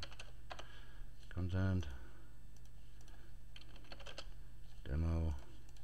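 Someone types text into a web editor on a computer keyboard, producing steady soft key clicks throughout under a low constant hum, with two short bursts of speech breaking in.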